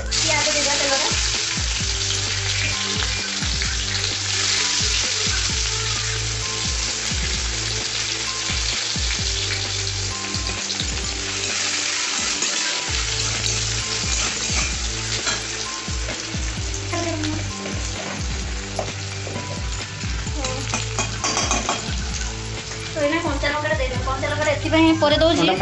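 Cumin and onion frying in hot oil for an egg masala, a loud continuous sizzle with spatters and stirring scrapes close by, with faint voices at moments.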